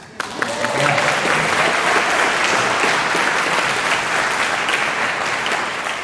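A concert audience breaks into sustained applause, dense clapping swelling quickly and holding steady for several seconds with a few cheers mixed in.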